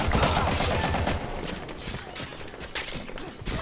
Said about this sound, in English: What are you shooting me?